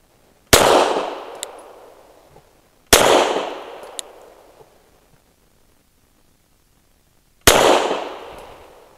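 Three loud suppressed-pistol shots from an EAA Girsan Witness 2311 firing heavy 158-grain PPU subsonic rounds, each a sharp crack with a decaying tail, spaced by a few seconds of near silence.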